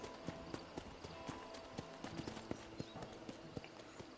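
A horse's hooves clip-clop in a steady walking rhythm in the Western video game Red Dead Redemption, quiet and close, with occasional soft background sounds.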